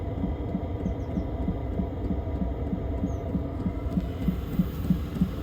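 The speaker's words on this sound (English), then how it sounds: "Pump's running away nicely" A maXpeedingrods 12V 5kW diesel heater's fuel pump ticks in a steady, evenly spaced rhythm of soft clicks, roughly two per second, over a continuous low hum of the running heater, with no talking.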